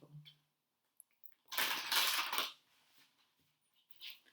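A quick burst of papery rustling and flicking as tarot cards are shuffled, lasting about a second, with faint clicks before and a short rustle after.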